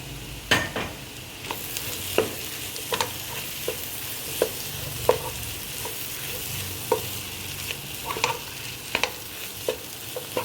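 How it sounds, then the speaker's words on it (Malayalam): Chicken coated in masala fries in a pan over a medium flame with a steady background sizzle, broken by repeated sharp scraping clicks of a spoon stirring at irregular intervals, close and moderately loud, with no talking. "ഒരു 3 മിനിറ്റ് നേരം ഒരു മീഡിയം ഫ്ലെയിമിൽ നമുക്കിതൊന്ന് കുക്ക് ചെയ്തെടുക്കണം."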